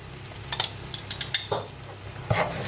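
Garlic and Madras curry powder stirred in a pan over the browned bits left from chicken, with a low sizzle under scattered scrapes and metallic clinks of a utensil on the pan.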